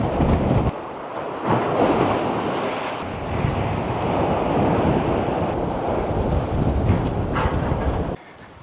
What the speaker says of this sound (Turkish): Rüzgarlı, fırtınalı bir havadayız Bodrum'da.